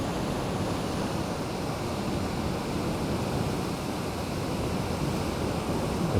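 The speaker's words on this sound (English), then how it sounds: "That's the water gushing out there." Water gushes out through small, manually opened canal lock gates as a steady, broad, loud rush that never lets up, with no voices over it.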